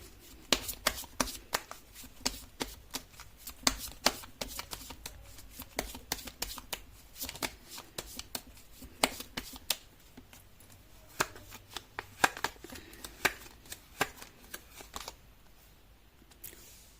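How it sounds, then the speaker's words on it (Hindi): Tarot cards being shuffled by hand, a steady run of soft riffling slaps and flutters repeated over and over at close range, fairly quiet and with no talking. "कर लेती हूँ कार्ड की शफलिंग।"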